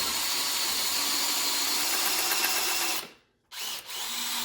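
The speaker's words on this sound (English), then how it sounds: "drill for another minute or so and repeat the process" A power drill boring a hole into a C6 Corvette crankshaft for a harmonic balancer pin, a continuous high whine running steadily, then cutting out briefly near the end before resuming.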